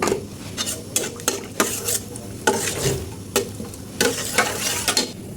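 Bay leaf, garam masala and cardamom sizzle in hot oil in a heated kadai, a steady crackle broken by sharp, rhythmic clanks of a metal spoon stirring against the pan.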